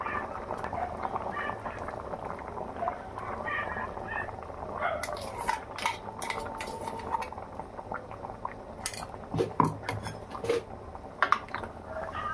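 Cauliflower gravy stirred in a pot, with a spoon scraping and clinking against the metal over a bubbling simmer, and the clatter grows busier midway.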